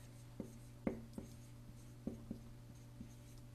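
A pencil scratches on paper in a few faint, brief strokes and taps spaced irregularly over a low steady hum, quiet and close.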